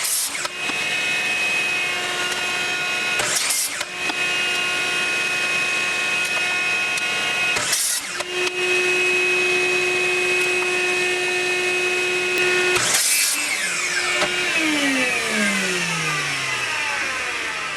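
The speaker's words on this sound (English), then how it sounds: "Here I'm taking a scrap piece of plywood and ripping it down to 4 inches to make the feet of the jig." A saw ripping a scrap piece of plywood for a jig's feet: a steady, loud, whining motor hum with brief surges during the cut, then the blade spins down with a falling pitch at the end.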